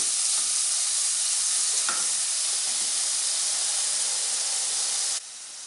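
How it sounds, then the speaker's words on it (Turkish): Carrots sauté in oil for chicken noodle soup, producing a loud, steady, hissing sizzle that fills the clip evenly and drops off sharply near the end, with no talking. "Şimdi havucumuzu ilave ediyorum. Havucumuz da biraz rengini salarsa sarımsak ilave edeceğim. Yağ biraz rengi çıksın havucun."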